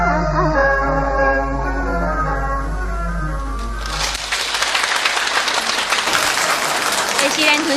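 At a Yue opera show, a sung phrase with accompaniment fades out and warm, full audience applause swells up and fills the hall, a thick, even roar of clapping to the end.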